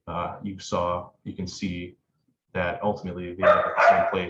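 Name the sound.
dog barking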